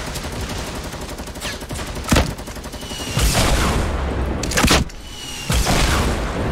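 Fortnite gunfire cracks out in several sharp shots and short bursts, loud and close, over continuous game sound and effects.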